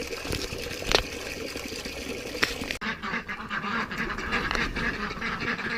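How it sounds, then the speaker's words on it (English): Ducks being let out on a small homestead with chickens and rabbits, quacking steadily and close by in a busy, noisy farmyard, with no one talking. "This is probably the best part of the day right here, is letting the ducks out."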